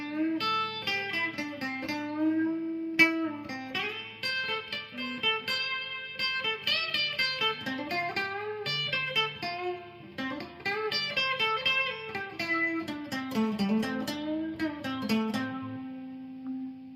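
Electric guitar solo from a song, a continuous run of melodic lead lines with bends and sustained notes over quiet backing, played at steady volume with no talking.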